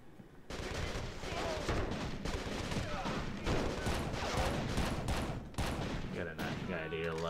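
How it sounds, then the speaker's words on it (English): Rapid gunfire in the video game Urban Chaos: Riot Response, dense bursts of automatic shots and heavy impacts firing continuously and loudly, with a brief lull at the start and a tailing sound near the end. "They shoot back."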